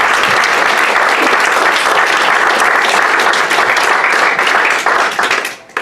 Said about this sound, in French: Je propose de les applaudir